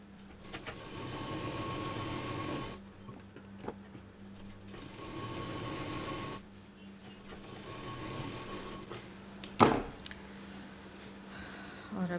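A sewing machine hums and stitches through the quilted lining of a clutch purse in bursts, stopping and starting, with a sharp clack near the end.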